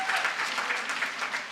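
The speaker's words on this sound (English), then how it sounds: "A big applause." Applause from the audience at a conference closing session, a steady dense clatter of many hands sustained throughout at moderate distance.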